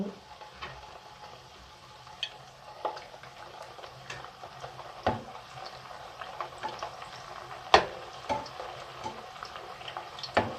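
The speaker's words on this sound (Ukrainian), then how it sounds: "олія вже добре розігріта і можна викладати чебуреки" Chebureks frying in hot oil about a centimetre deep, a steady close sizzle with scattered sharp pops and crackles, no voices.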